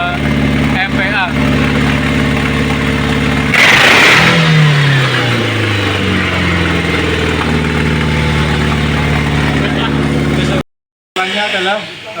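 An EFI car engine idles steadily, then revs up sharply during an acceleration test before settling back, with a brief dropout near the end; a person talks over it.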